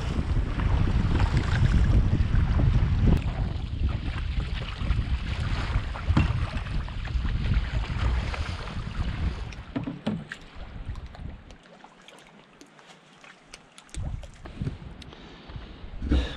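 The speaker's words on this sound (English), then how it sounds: "Really strong wind and big waves." Strong wind and big waves buffet a canoe in the Canadian wilderness: loud roaring gusts and sloshing water dominate, easing into quieter lapping and splashes near the end.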